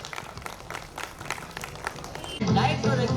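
An audience claps at a school's first annual function, steady broadband applause from a crowd through the first part, then swelling louder near the end, with a voice or amplified sound rising over it in the final second.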